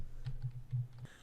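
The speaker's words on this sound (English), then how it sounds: "as I type that thing in" Quick, soft keystrokes on a computer keyboard tap out an uneven burst of about five clicks over a second, faint and close, with no talk.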